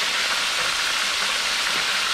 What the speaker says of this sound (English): Got some sizzling going on now.